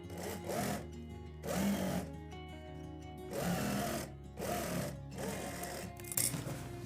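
A sewing machine stitches trouser legs along marked lines in several short, fairly loud bursts separated by brief pauses, with a steady low motor hum underneath.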